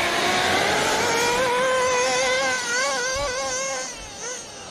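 A nitro-powered RC car engine revs high and whining at an outdoor bashing session, loud and close, with pitch wavering up and down through repeated throttle blips before it fades slightly toward the end.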